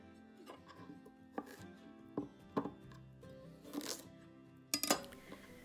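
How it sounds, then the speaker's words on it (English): A knife strikes a cutting board in quick, irregular chops, julienning a carrot into matchstick strips, sharp clicks spaced unevenly over a soft background hum. "Julienne the carrot by slicing it into small matchstick-sized strips."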